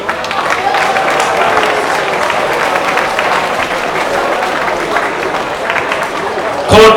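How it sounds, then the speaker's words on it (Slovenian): Audience at a May Day bonfire gathering applauding together, a steady dense wash of clapping lasting several seconds with a few louder bursts near the end. "Dajmo si sami sebi najprej zelo zaploskati"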